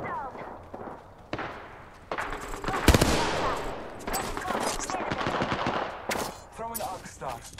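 In Apex Legends gunfire rings out in bursts, with sharp rapid automatic fire and loud single shots spread across the clip, and a player speaks over parts of it.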